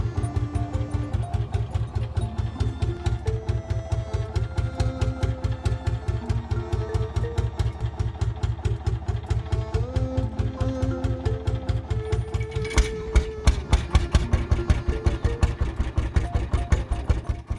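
The steam engine of a Soviet S-100 tractor runs after a hard manual flywheel start, giving a loud, steady, rapid thumping beat that holds its pace throughout.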